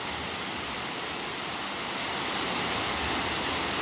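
A natural waterfall pours steadily outdoors, a dense, continuous broadband roar and hiss of falling water that holds even and unbroken throughout, with no voices.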